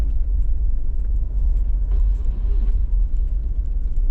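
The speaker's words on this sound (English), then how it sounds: "Either way, we're sitting in traffic." A car sits in city street traffic in Charleston, South Carolina, giving a loud, continuous low rumble of engine and road noise close by, with small clinks and faint passing sounds over it.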